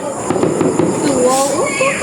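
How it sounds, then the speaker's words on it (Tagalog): Christmas fireworks crackle and burst in a quick series of bright pops and whistles, with people nearby cheering and talking over them. "Oh, na may fireworks, guys."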